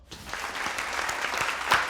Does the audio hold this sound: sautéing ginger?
no